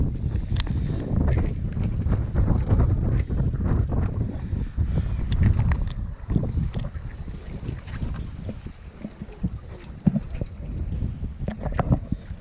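Gusty wind buffets the microphone while rough water slaps and sloshes irregularly against the hull of an anchored sailboat, with scattered knocks and creaks throughout.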